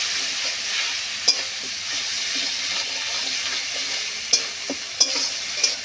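A ginger-garlic paste masala is stir-fried in a pan: a steady, close sizzle with sharp spoon scrapes and clicks against the metal, and no voices.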